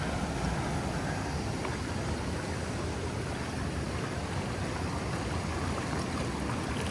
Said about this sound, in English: So this is the creek that feeds the Southern Rockhole waterfall, plunge pool.